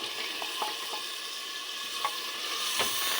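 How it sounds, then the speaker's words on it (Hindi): Meat browning in a simmered spice paste inside a handi pot for turnip meat curry (shalgam gosht), a steady close sizzle with a few soft clicks of stirring, no talking. "और गोश्त को हम मसाले के अंदर अच्छे से भून लेंगे"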